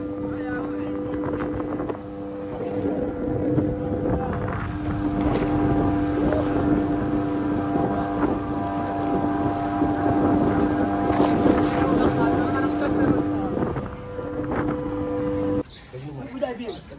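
A small motorboat crosses between shores, its outboard engine humming steadily with wind buffeting the microphone, then cutting off near the end while people talk over it.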